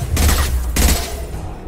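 Gunfire in the video game Mass Effect 2 Legendary Edition: two loud bursts of rapid shots, close and heavy, with a short gap between them, then a lingering rumbling tail.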